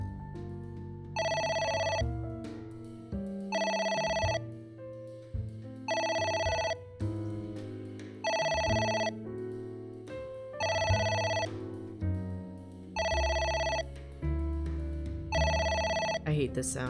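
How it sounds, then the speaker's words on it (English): A telephone rings repeatedly in the video game AI: The Somnium Files, seven or eight evenly spaced electronic bell bursts over low background music, loud and close. "I hate this sound. Please stop ringing."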